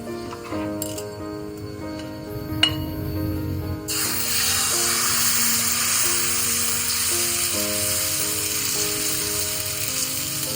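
Dosa batter hitting a hot griddle greased with coconut oil, a sudden loud, steady sizzle that starts partway in and keeps hissing over faint background music.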